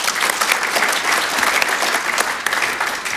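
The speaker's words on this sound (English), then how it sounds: "Give them all a round of applause." A conference audience gives a round of applause to a technology panel on AI, steady, dense clapping filling the room throughout at an even, loud level with no speech over it.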